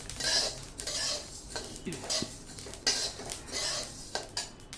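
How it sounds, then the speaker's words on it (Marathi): Metal spatula scraping and tapping against a pan as small seeds are stirred and tossed, in irregular clinking bursts with no talking. "आपण ही बडीशोप जी आहे ही छान भाजून घेत आहोत"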